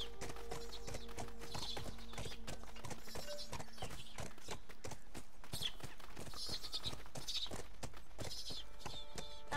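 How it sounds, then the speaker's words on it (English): Horse hooves clip-clop in a steady walking rhythm in The Last of Us Remastered, close and distinct throughout with faint background ambience. "Go get on the horse, because Joel can't jump that little bit of barbed wire."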